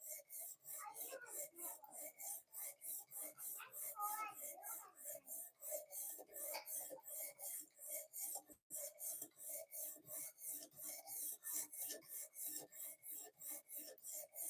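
A knife edge is worked on a fixed angle sharpening system, building a burr along the leading edge, with steady back-and-forth rasping strokes repeating rapidly and evenly throughout, close and fairly loud, with a brief break near the middle.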